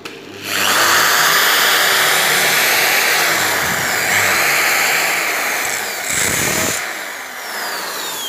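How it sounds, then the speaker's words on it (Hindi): A power drill bores a hole into a wall, a loud continuous whining roar that starts abruptly, shifts pitch slightly as it bites and dips briefly near the end, with no talk. "अब मैं इसके अंदर सुराख करता हूँ।"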